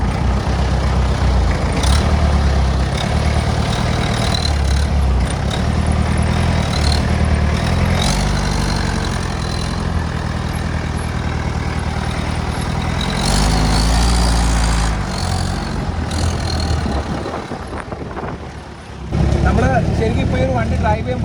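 A Willys jeep fitted with a replacement engine drives along with a steady low engine drone and rumble, close and loud throughout, while someone talks over it.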